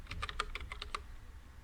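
Rapid typing on a computer keyboard while entering Java code, a quick run of about eight crisp key clicks at close range, quiet and without talk.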